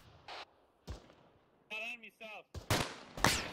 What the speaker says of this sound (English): it sounds like marksman fire south southeast of B2